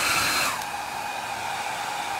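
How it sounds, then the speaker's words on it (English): A hair dryer blows steadily at close range during a farmhouse-style stackable book display craft project, a constant loud airy rush with no talking over it. "I'm going to hit this with a hairdryer."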